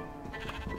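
Sheep bleating in the video game Minecraft, a single faint, short bleat over steady low background noise.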